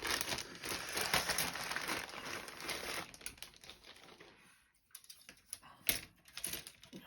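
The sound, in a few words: model kit parts bags being opened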